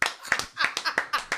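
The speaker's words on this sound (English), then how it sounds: "Come on, let's clap, man." A few people clapping in a radio studio, about eight sharp separate claps in a quick, slightly uneven rhythm, close and moderately loud.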